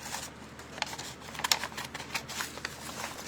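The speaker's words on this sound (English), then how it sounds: "Then you're going to take your scissors, and on every fold that you made, not what was in the bag, you're going to do one on the top, about halfways." Scissors snip through the creases of a folded paper bag in several short, crisp cuts with light rustling of paper, close and fairly quiet.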